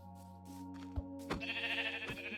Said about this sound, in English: let's go ahead and grab this last sheep right here that I saw